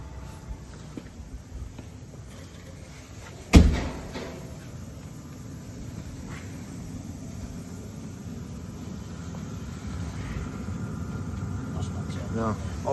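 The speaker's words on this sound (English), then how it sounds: "I'll shut the door." A Citroen Ami car door slams shut once with a sharp, close thump, followed by a steady low engine and heater drone inside the small car.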